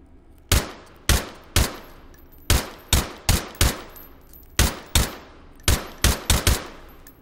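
Rifle shots in the virtual reality shooting game H3VR with an Mk18 or M16A4-style rifle, firing about fifteen sharp single and double cracks in irregular groups, loud and close, each followed by a short decaying tail.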